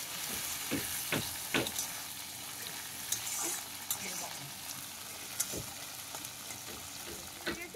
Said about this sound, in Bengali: মাছটাকে এবার ভেজে নেব। বেশি ভাজবো না, হালকা করে ভাজলেই হয়ে যাবে।